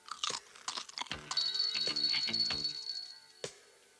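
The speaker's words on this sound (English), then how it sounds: "When you first eat a Smith Square crisp, you're sure of a big surprise." Crisp being bitten and chewed in a 1982 Smith Square crisps advert, a run of sharp, close, dry crunches in quick succession, with a high electronic tone sustained in the background.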